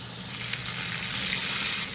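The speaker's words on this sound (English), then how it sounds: "he's using olive oil to sear the beef" Beef fillet sears in hot olive oil in a pan, giving a continuous bright, hissing sizzle that holds evenly loud throughout.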